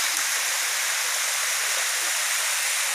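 Steady rushing water from a small waterfall, Tobo Tobo Mini Falls in Matalom, Leyte, Philippines, swollen by rain, a continuous close hiss and splash with no voices.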